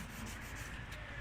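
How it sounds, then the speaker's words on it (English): Steady, continuous scratchy rubbing of hand sanding a paint run, a close, even abrasive hiss with gentle back-and-forth strokes throughout. "So I'm sanding off the edge."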